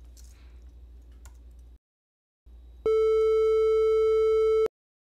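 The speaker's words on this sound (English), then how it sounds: "Now let's go ahead and try the triangle wave." A Web Audio API oscillator set to a triangle wave plays a loud, steady, pure-sounding tone for about two seconds. It starts and stops abruptly after quiet keyboard clicking.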